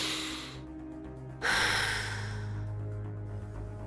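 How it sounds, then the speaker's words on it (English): A single sharp breath is drawn in partway through a tactical breathing exercise, followed by a long, steady exhale. The sound is close and fairly quiet, and no one speaks. "One thing that can help is doing something called tactical breathing."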